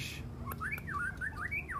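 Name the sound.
white-rumped shama singing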